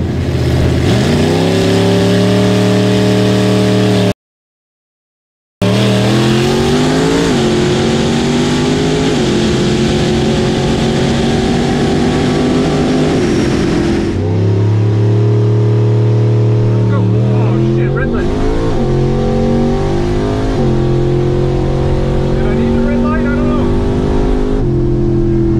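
A Monza drag race car launches hard off the line, its loud engine revving with rising pitch sweeps and gear changes, a second engine roaring alongside as the run continues.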